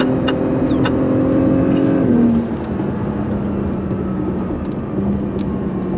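A 2022 Acura NSX Type S engine revs and accelerates loudly up close, a steady roaring drone that shifts down in pitch partway through and carries on.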